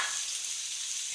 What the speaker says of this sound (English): we add the onion, we're gonna saute them for around a few minutes